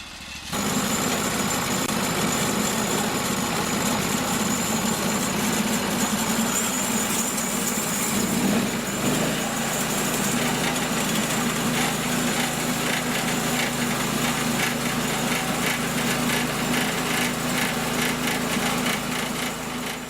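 A portable bandsaw mill slicing a slab from a big log, its engine droning steadily and loud at close range the whole time, with the blade's pitch shifting partway through the cut.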